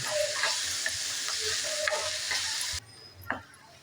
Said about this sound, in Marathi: आणि परतून घेऊया आपण आता ह्याच्यात थोडंसं मीठ टाकून घेऊया आपण आणि थोडी असे परतून घ्यायची दोन मिनिटासाठी